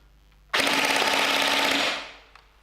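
An airsoft gun with an alloy barrel and an 11-volt battery fires a loud, rapid full-auto burst of about 17 rounds per second, a dense buzzing rattle lasting over a second before cutting off and fading.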